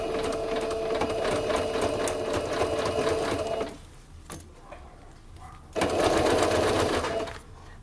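A sewing machine stitches bias binding onto fabric, running in steady loud bursts with a brief backstitch pause and faint handling noises before the whirring stitching resumes.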